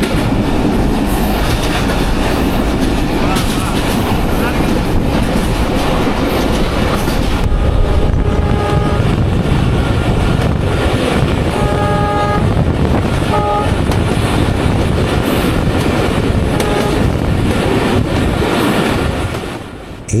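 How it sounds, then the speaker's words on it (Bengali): The Rohanpur commuter train on the Rajshahi to Nachol line in Bangladesh runs with a steady loud roar and rattling wheel clatter, broken by brief tonal toots midway, all close and continuous. "ট্রেনের গতি কিন্তু দুর্দান্ত।"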